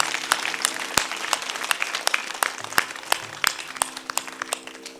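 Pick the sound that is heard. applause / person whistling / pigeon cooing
applause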